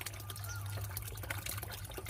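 Water flows weakly from a solar-powered DC 12V submersible pump, a faint, steady trickle and splash that continues alone throughout.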